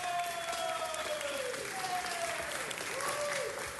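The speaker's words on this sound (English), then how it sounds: "They all deserve a big round of applause." Audience at a city council meeting breaks into a big round of applause, a thick sustained clapping with crowd voices and a few rising whistles mixed in, filling the chamber throughout.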